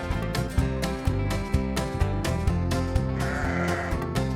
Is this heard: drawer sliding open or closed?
no